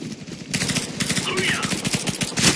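Bursts of rapid automatic gunfire from a shooter video game crackle loud and close in quick repeated shots across the clip.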